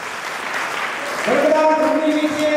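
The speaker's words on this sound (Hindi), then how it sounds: "आप बालिकाओं के लिए तालियां बजाते हैं।" Audience applause for the girls being honoured at a community talent award ceremony, a steady patter of clapping that swells partway through, with some voices mixed in.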